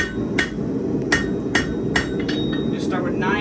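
Hammer blows on 1/4 inch steel stock being forged to a point for a wall hook in a shop, about eight sharp ringing strikes in an irregular rhythm over steady low background rumble, close and clear.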